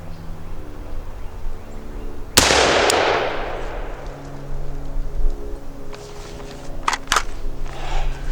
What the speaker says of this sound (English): Took 2 shots, well, 3 shots.